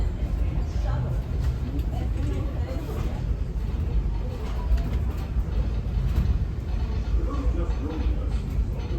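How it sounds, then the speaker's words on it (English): Disneyland Railroad train rolling along its track, a steady, loud rumble with rail noise filling the whole stretch, with a faint murmur of passengers in the background. "welcome aboard the Disneyland Railroad"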